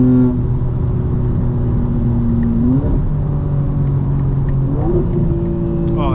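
2025 BMW M4 Competition engine accelerating through the gears, a loud close in-cabin rising whine that climbs, drops at a shift and climbs again, with steady road rumble underneath.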